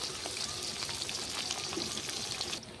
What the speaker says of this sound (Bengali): আমার মাছগুলি লাল লাল করে ভাজা হয়ে গেছে